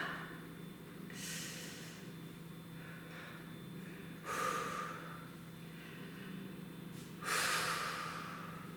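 Heavy, forceful breaths during an arm weight workout, three strong exhales spaced a few seconds apart over a low steady hum, close and fairly loud.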